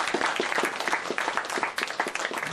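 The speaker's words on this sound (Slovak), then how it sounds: "To si zaslúži veľký potlesk." An audience at a book launch applauds, with dense, continuous clapping from many hands that fills the space at a steady level throughout.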